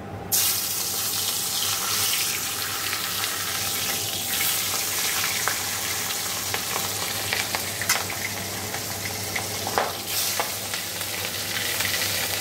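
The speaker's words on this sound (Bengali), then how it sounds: "মাছগুলো এখন ভাজা করে নেবো" Turmeric- and salt-rubbed fish sizzle loudly in hot oil in a wok in a home kitchen, a steady dense hiss with occasional pops and spatters, continuous and close with no talking.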